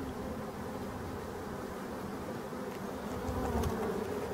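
Black honey bees buzzing in flight near a forest hive, a steady faint hum with occasional closer passes and soft outdoor background.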